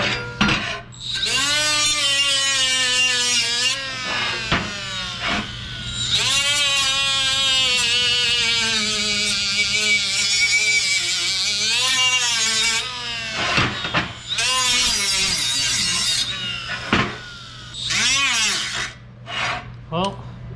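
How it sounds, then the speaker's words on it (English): A cordless die grinder grinds down truck cab mounts on a 1966 International Loadstar 1600. It gives a loud, close, high whining rasp in long sustained passes, its pitch wavering under load, broken by short pauses. "grinding these two mounts was a full battery in this thing"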